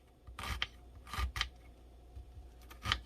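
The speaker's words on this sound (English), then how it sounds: "So let's cut up the onion." A kitchen knife cuts up an onion for fish soup, giving a few separate crisp chops and slicing scrapes spread over a few seconds, quiet and close with no talking.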